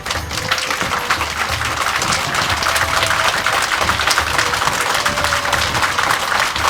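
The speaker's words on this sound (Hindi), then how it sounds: "खड़े होकर जोरदार तालियों से एक बार दीदी का स्वागत करें" An audience at a Brahmakumaris gathering in Sunni, Himachal, stands and claps loudly to welcome a guest, producing a dense, continuous wash of applause from start to finish.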